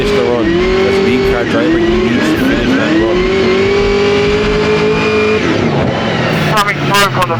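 A drift car's engine revs loudly on the track at the Oman OIDC round, pitch rising and falling across the run, with a commentator talking over it throughout.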